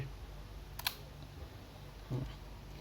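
A Yashica Electro 35 GSN rangefinder film camera fires its shutter: a short, faint mechanical click, then a second soft click with film-advance sound a moment later, in a quiet room.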